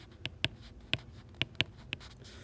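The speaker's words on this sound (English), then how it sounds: "let me write these out" Pen or pencil strokes on paper while writing out a math proof for the Pythagorean theorem: quiet, close, scratchy marks in short irregular strokes with small pauses between them.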